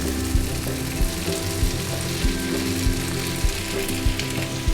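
White aubergine fries in a pan with prawns and a tomato mixture. There is a loud, close, continuous sizzle and bubbling, with regular low thumps and scrapes from stirring and no speech.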